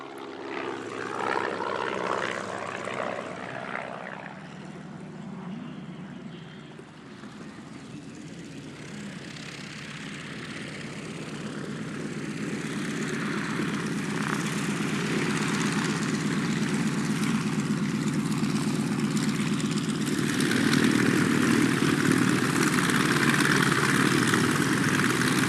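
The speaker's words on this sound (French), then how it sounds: "Magnifiquement remis en état, cet avion mythique évolue dans la lumière." Restored vintage propeller aircraft performing aerobatics at the La Ferté-Alais air show, its engine droning loud and continuous, swelling and shifting in pitch through loops and passes, with no talk.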